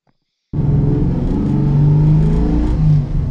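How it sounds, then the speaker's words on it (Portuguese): A Gurgel XEF small car engine bursts in after half a second of silence and pulls hard with a steady, loud, close drone and slight revving, with no talk over it. "E como rende bem esse motorzinho nesse carro?"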